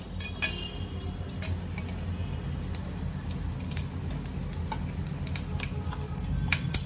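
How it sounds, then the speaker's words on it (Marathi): Whole spices crackle in hot oil in a pan on a gas stove, a steady sizzle with frequent small pops and clicks throughout, fairly close and without talk. "आता गॅसवर मी आता पॅन ठेवून तेल तापत ठेवलंय। आता ह्याच्यामध्ये मी खडे मसाले टाकून घेते।"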